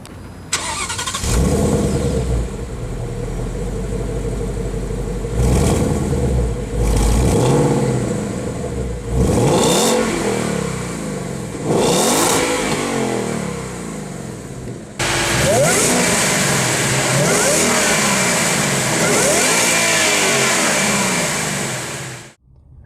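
A 2017 Ford Mustang GT with a Roush supercharger (670 hp) drives and revs loudly and up close, its engine climbing repeatedly through the gears in surges, with a brief break and then more hard acceleration and wind noise.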